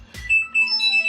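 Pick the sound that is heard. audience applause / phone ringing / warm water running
phone ringing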